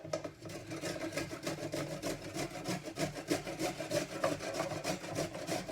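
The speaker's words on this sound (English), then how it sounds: "I've got 2 little knobs of ginger that I've peeled, and we're going to go ahead and grate these" Peeled ginger knobs are rubbed against a grater in quick, even rasping strokes, a steady scratchy rhythm heard close and fairly faint.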